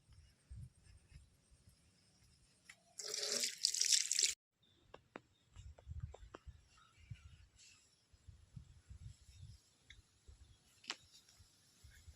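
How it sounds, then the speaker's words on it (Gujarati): Hands being washed under a running water tap at home, a short burst of splashing, rushing water about one and a half seconds long, preceded and followed by quiet handling knocks and soft clatter. "હું હાથ ધોઈ લઉં એકવાર"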